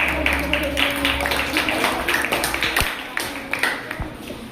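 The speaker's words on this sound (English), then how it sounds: "Let's clap and praise them one more time." Clapping from an audience at a school Independence Day celebration, a dense run of hand claps with rhythmic accents and a few louder individual claps, moderately close, with some voices underneath.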